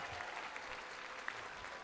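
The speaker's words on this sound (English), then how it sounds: "Give a standing ovation to your friends, your spouses, your supporters, and loved ones, graduates" Steady applause from a large audience giving a standing ovation at a college commencement ceremony, a continuous even wash of clapping heard from within the crowd.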